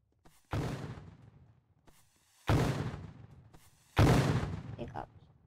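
Three heavy shotgun blasts in the Roblox Fortnite game, spaced about two seconds apart, each a sharp loud boom with a decaying tail, a few quieter clicks between.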